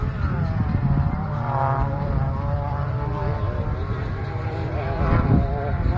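Race car engines at a racetrack in San José del Cabo, Baja California Sur, during qualifying, a sustained droning roar with rising and falling pitch as cars pass, loud and continuous.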